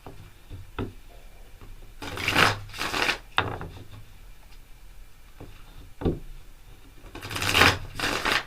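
Tarot cards are shuffled for a reading, with bursts of riffling and shuffling separated by quieter taps and card handling.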